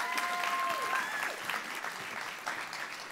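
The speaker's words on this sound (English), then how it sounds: "Give her a round of applause," An audience applauds steadily throughout as a student speaker from Spelman College is welcomed on stage for a talk, with dense continuous clapping and no talk over it.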